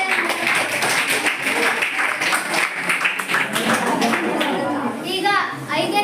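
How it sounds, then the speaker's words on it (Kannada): Tenth-grade classroom applause for the winning team of a social science quiz: steady, close clapping runs throughout, with children's voices chattering underneath. "ಅವರಿಗೆ ಚಪ್ಪಾಳೆ"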